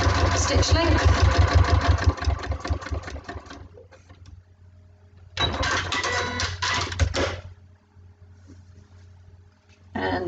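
A sewing machine runs a 1.2 stitch length line with the needle down, whirring rapidly in two bursts separated by a quiet pause, then starting again at the end.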